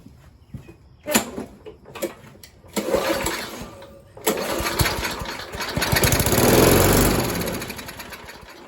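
An old push lawn mower with a freshly cleaned carburetor sputters a few times, then catches and runs, its engine roar building steadily loud and close until the end, with no talk.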